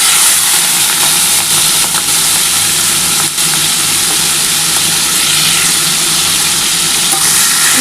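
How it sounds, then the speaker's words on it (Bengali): Prawns fry in hot oil in a pan, a loud steady sizzle with a continuous crackle that fills the whole stretch, with some stirring noise and no voices. "এবার চিংড়ি মাছগুলো আমি ভেজে নিচ্ছি।"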